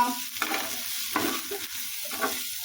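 Chicken pieces fry in a pan for a chicken salad, with steady sizzling under rhythmic scraping stir strokes that come about three times, heard alone without talk.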